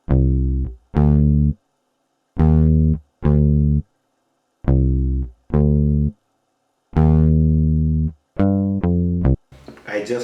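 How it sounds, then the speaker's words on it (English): Sampled bass guitar from the Contact library plays a sparse afrobeat line of short, deep, punchy notes separated by silence, heard alone, with other sounds entering right at the end. "Really nice bass guitar."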